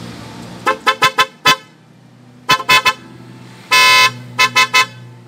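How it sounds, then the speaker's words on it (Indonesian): A newly installed German-made Dr. D. Fischer 118 dB car horn honks repeatedly in short bursts, with one longer blast in the middle, loud and close over a steady engine hum. "guys ini gue coba klaksonnya karena udah dipasang"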